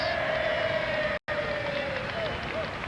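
A stadium crowd of over 23,000 at the opening ceremonies of Canadian national wrestling championships makes a steady distant roar and murmur, briefly cut off once, with a voice talking faintly over it.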